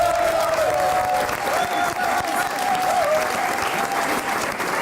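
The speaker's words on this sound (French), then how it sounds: "je voudrais que quand même, on fasse un maximum de bruit pour Joy" Audience applause at a slam poetry show, sustained steady clapping from a sizable crowd with scattered cheers and a faint whistle throughout.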